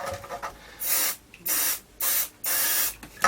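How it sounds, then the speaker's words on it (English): Three bursts of aerosol switch cleaner sprayed into a Pye 8103 radio cassette player, each loud hissing jet lasting around half a second with short gaps between, up close. "quick spray of switch cleaner."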